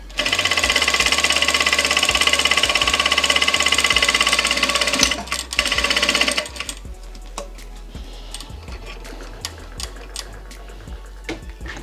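A Vevor industrial sewing machine back stitching runs in a fast, loud, steady rattle for about six seconds, then stops, leaving soft clicks and handling sounds.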